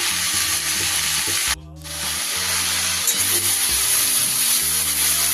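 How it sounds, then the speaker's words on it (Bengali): Fenugreek leaves dropped onto hot oil tempered with black mustard seeds: a loud, continuous sizzle with stirring and scraping, a brief drop-out early on, over a low steady tonal background. "এবার তেল তেলের ফোড়নের ওপরে আমি শাকগুলো দিয়ে দিলাম"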